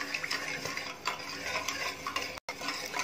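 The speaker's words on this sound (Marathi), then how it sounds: "साखर विरघळेपर्यंत हे कंटिन्यू हलवायचं आहे" A spoon stirring sugar and water with saffron strands in a pot to make syrup for malpua, giving soft, continuous scraping and light clinks against the metal, faint and close with no voices.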